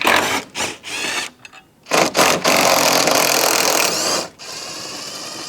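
Power tool loosening the 16 and 18 support brace bolts on a BMW F90 M5's S63 engine, loud close whirring bursts broken by short pauses, the final run lasting about two seconds.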